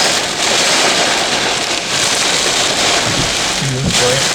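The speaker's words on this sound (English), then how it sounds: "Oh boy, that's a lot of rain." Heavy rain pours down in a dense, steady roar during a tornado storm in Locust Grove, Virginia, loud and close throughout, with faint voices in the last second.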